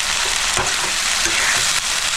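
Green chili paste hits a hot pan with chicken gizzards, giving a dense, loud, continuous sizzle with a few soft stirring knocks.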